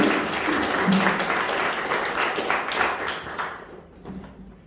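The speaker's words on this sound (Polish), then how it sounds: "Brawa jeszcze raz." Lively hand clapping from an audience at a prize-giving ceremony for girls who won a competition, steady and fairly close for about four seconds before dying away into a couple of stray claps.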